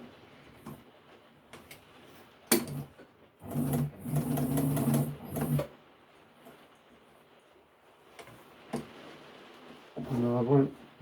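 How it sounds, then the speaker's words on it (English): Sewing machine stitching a cushion runs in short close bursts, a steady mechanical whir with a rapid stitching rhythm, broken by pauses and handling noises, with a brief voice near the end. "we'll just do it with a sewing machine for ease."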